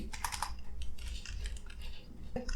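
Quick, irregular clatter of typing on a computer keyboard, close and fairly quiet, in short bursts of keystrokes with a few louder taps near the end.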